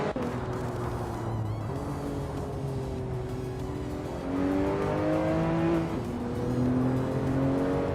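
A 1987 Rough Sea TR Yellowbird race car in a racing video game drones steadily up close, engine pitch rising and shifting through gears, with other cars' engines layered in.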